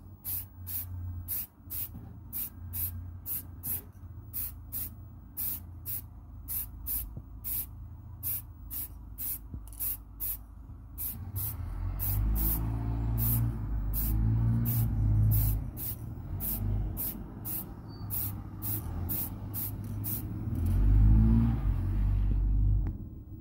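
Rust-Oleum Mirror Effect chrome spray paint hissing from an aerosol can in a long series of short, regular bursts, close and fairly quiet, with a low rumble building underneath in the second half.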